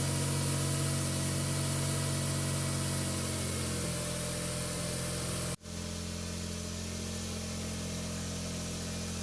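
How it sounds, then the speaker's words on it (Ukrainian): A 2000 Smart Fortwo 450 engine idles while warming up, with a steady low hum and drone, continuous throughout, with one brief dropout partway through. "Двигун запустив, отак прогрівається."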